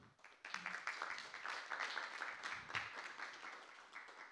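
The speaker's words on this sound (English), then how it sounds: "So let's give a round of applause to Thomas again." Applause from a lecture hall audience after a physics lecture, a faint, distant patter of many hands clapping that stays fairly even for several seconds.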